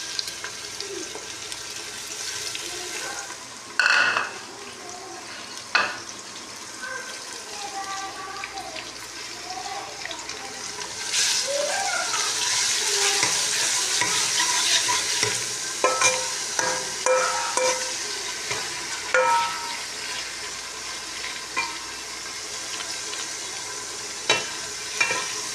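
Tomatoes, green chilies and garlic-ginger paste fry in a pan, giving a steady sizzle that grows louder partway through, with repeated stirring clatters and scrapes close up.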